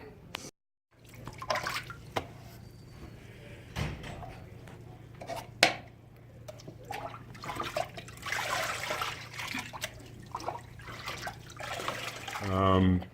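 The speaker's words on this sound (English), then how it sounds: "So we'll get this washed off and see what it really looks like." Water sprays and splashes to wash sand off a freshly poured sand casting at a casting session. The rushing hiss swells in patches, with clatter and people talking nearby.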